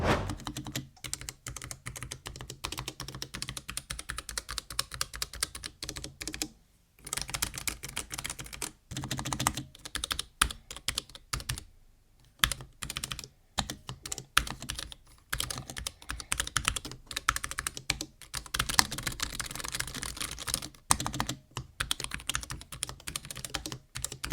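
Rapid typing on an Ajazz AKP815 mechanical keyboard, dense clacking keystrokes close up with a few brief pauses, no voices.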